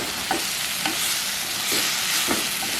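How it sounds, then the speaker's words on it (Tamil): Soft sizzling as tomatoes sauté in a pan with a few scraping stirs of a spoon, steady frying underneath, close and fairly quiet. "இப்போ வதக்கி பார்ப்போம்."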